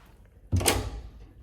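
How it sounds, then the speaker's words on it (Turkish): A door pushed closed during a road trip to Kütahya lands as one sharp, close bang that rings and fades over about a second, with no voices at that moment. "Kapı kapanmadı. Kapanır."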